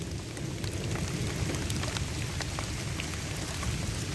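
Steady rain pours down, a dense continuous hiss with scattered drops pattering on a surface, no voices.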